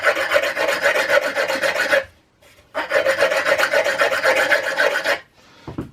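A hand file rasps across the burrs at the end of a Devair 447 aircraft engine piston, in two long, steady bursts of rapid back-and-forth strokes separated by a short pause, loud and close.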